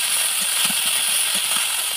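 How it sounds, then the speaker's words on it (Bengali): Eggplant pieces fry in hot oil with a steady, bright hiss that holds evenly throughout, with a few faint low knocks beneath it and no voices. "তেলের মধ্যে বেগুনগুলো দিয়ে দিলাম।"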